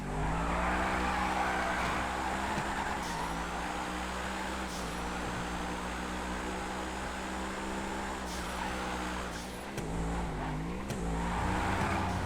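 A car drifting in GTA FiveM, its engine droning steadily with shifting revs while the tires squeal almost without a break, loud and close.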